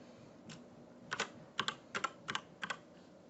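A password being typed on a computer keyboard during a login to an Office 365 account: a handful of crisp, close key clicks, some in quick pairs, spaced irregularly over a quiet background.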